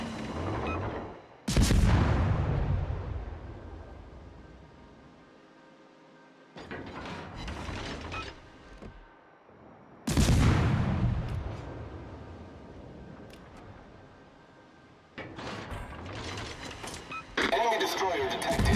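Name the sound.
naval gunfire from a destroyer in World of Warships video game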